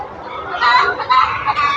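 A shed of about five thousand layer hens clucks in a dense, loud chorus of overlapping calls that swell and dip, with no voices on top.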